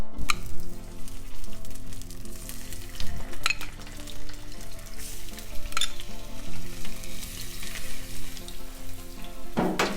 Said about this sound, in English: Just a little bit olive oil, start with, and sausage is gonna go.